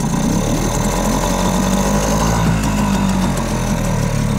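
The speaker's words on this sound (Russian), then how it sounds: "Yamaha трешка заводится, конечно, лучше." A Yamaha 3 hp outboard boat motor runs loud and close, with a steady low engine drone and a faint uneven putter throughout, with no talk over it.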